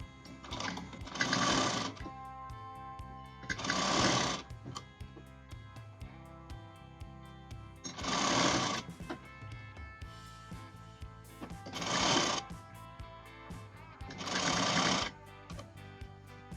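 Sewing machine stitching the folded side slits of a kurti, running in five short bursts of rapid mechanical whirring separated by pauses, close and clear with no talk.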